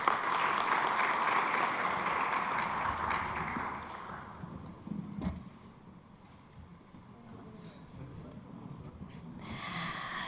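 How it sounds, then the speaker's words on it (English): Conference attendees at a regional cybersecurity drill in Lilongwe, Malawi applaud the panelists, a full crowd clapping that tapers away partway through, leaving a quiet room before a second round of clapping picks up near the end. "I will ask for a round of applause for our panelists."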